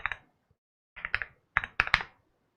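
Short bursts of keystrokes on a computer keyboard as a search for Windows network fixes is typed, clustered in three quick groups of taps with pauses between, close and fairly quiet.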